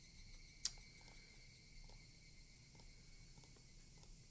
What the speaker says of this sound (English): Listen to the beautiful cicadas while we... or the Higurashi while I do this.